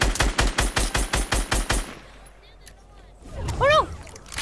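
Rapid automatic gunfire from a video game, about ten evenly spaced shots in a quick burst, followed by quieter background sound and a brief rising electronic effect, while a voice talks over it.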